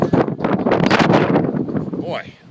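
Strong wind gusting across an off-grid farm on a bright day, a loud, continuous roaring rush buffeting the microphone for a couple of seconds before easing slightly.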